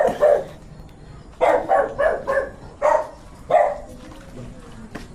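A dog barks in short bursts, about six sharp barks in uneven clusters, fairly close and loud against a quiet background.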